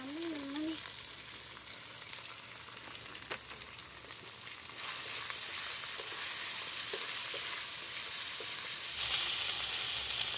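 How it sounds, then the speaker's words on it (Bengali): Ginger, turmeric and chilli powder fry in oil in a pan, a continuous crackling hiss with occasional stirring clinks, growing louder partway through. "মশলাটা ভালো করে ভাজা হয়ে গেছে"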